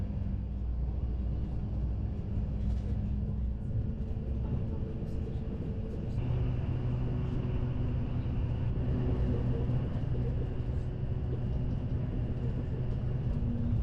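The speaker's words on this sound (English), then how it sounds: "Many trains do stop at Kolín, but we're blasting straight through." A RegioJet train runs from Prague to Poprad through snow-covered Czech scenery, speeding through Kolín without stopping. Heard from inside, it gives a continuous low rumble and rolling drone that stays fairly steady, with faint rattles over it.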